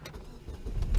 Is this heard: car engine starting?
yes